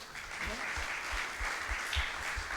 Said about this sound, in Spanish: vamos a darnos entonces en nombre del Señor un fuerte aplauso a todos